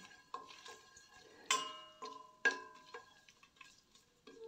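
A spoon stirs whole cinnamon, cardamom, cloves and black pepper in a pot for chicken tehari, making a few sharp metallic clinks and ringing taps against the pot, spaced irregularly and fairly close.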